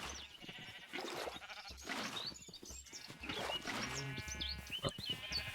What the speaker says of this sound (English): The sheep is a little confused with it.